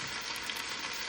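Oxtail browning in a hot pan gives a steady, dense sizzle and crackle of frying, close and fairly soft, with no voices.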